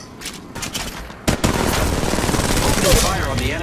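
Rapid automatic gunfire from the mobile battle-royale shooter Apex Legends Mobile, close and loud: a sparse opening burst, then a dense sustained volley of shots from about a second and a half onward, with a game voice line under it.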